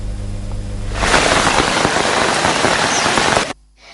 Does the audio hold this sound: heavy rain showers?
yes